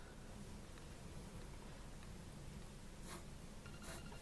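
A fountain pen nib scratching across paper, a soft continuous rasp with a couple of brief louder strokes, close and alone.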